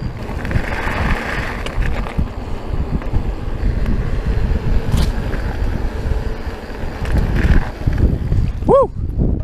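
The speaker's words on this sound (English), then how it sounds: "Wind." Wind buffets the microphone on a mountain bike trail at Mt. Charleston, Nevada, a loud continuous low rumble with gusts throughout and a brief voice near the end.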